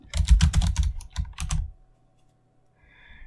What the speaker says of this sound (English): if you want to find a specific font, then you can go up in the search bar and type in your font.